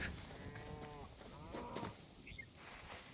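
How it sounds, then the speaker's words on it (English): Cows in the video game Hytale lowing a couple of times at moderate distance, two drawn-out moos over steady outdoor game ambience. "Oh, we got some cows, look."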